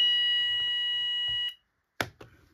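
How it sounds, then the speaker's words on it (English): A steady electronic fire alarm tone from a test board sounds continuously with faint talk beneath it, then cuts off abruptly, followed by a short silence and a brief clatter. "the alarm sounds"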